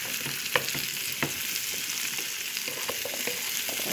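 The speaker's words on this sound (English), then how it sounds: "give it a stir" Bite-size pumpkin cubes fry in a pan with a constant, dense sizzle, broken by a few scattered spatula clicks as they are stirred, heard up close without any voices.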